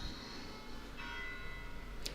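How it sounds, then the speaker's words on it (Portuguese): A church bell rings inside a church during a podcast recording, a faint sustained metallic tone that swells about halfway through, with a short bright strike at the end. "isto está sempre a tocar aqui um sino"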